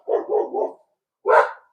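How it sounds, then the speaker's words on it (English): Dogs in a home bark close by, giving three quick barks in a row, a short pause, then one more louder bark. "Sorry, I have dogs."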